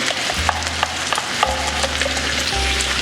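Onions and carrots frying in oil in a hot pan, a steady loud sizzle with scattered crackles and occasional scraping as the vegetables are stirred, with a low hum underneath.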